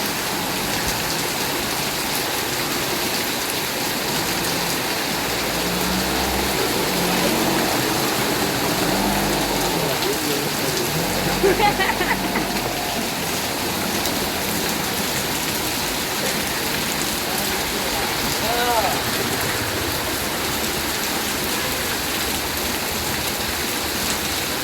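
Heavy monsoon rain pours steadily near a house, a dense, unbroken hiss of drops on surfaces that stays loud and even throughout, with no voices.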